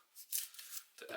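Scissors snip through paper, cutting out printed parts for a model painting build, several quick close cuts in about a second.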